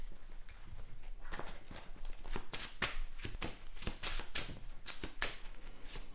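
Playing cards shuffled back into a deck during a tabletop card game, a run of crisp, rapid riffling bursts up close, repeated in quick uneven flurries over a faint background.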